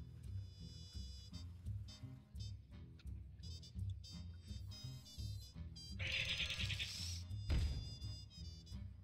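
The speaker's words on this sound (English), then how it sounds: "We're going to play Explosive Sheep." Synthetic bleating from the Explosive Sheep card in the video game Hearthstone sounds over bright, layered game music and interface chimes, followed by a burst of sparkling effects and a dull low thump near the end.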